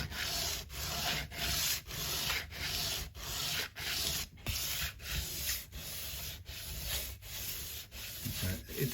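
The base of a bone-style nut from a Taylor Baby guitar being rubbed back and forth on sandpaper, close and rhythmic, with about a dozen even strokes separated by short pauses.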